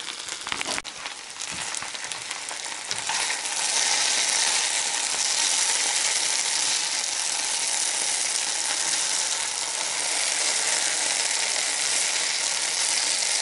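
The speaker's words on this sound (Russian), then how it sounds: "Жарится у нас, парится." Potatoes frying in a pan give a loud, continuous close sizzle with crackling, a few clicks at the start and no talking.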